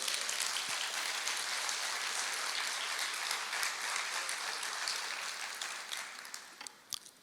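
A church congregation applauding during a service, a dense, steady wash of many hands clapping that holds evenly for several seconds, then thins and fades toward the end.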